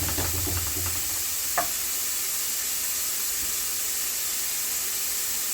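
Vegetables for stuffing sweat and sizzle in a pan with a continuous frying hiss, broken by a single brief clink of a utensil near the start; nobody speaks.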